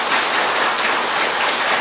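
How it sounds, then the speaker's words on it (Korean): Dense, steady applause from an audience at a televised Buddhist monk's question-and-answer lecture, loud and continuous with no voices over it. "쳐봐 한번 박수 쳐봐."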